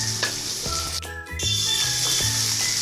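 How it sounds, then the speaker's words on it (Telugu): Chopped onions fry in hot oil in a pan while chicken fry is cooked at home, giving a loud, steady sizzle with scraping stir strokes and a brief dip near the middle. "గోల్డెన్ కలర్ వచ్చేదాకా వేయించుకోవాలండి"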